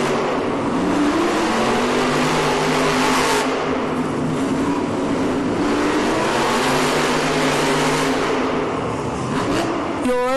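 Monster trucks revving their engines at the start of a Monster Jam arena race in Kansas City, a loud continuous roar with rising and falling revs that fills the space, with a sharp high whine near the end.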